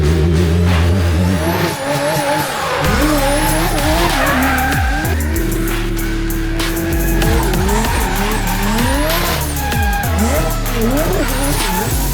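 A 2026 Dodge Charger drift car at Roadkill Nights screams with continuous, loud tire squeal and skidding over a roaring, revving engine, with pitch sweeping up and down through repeated slides.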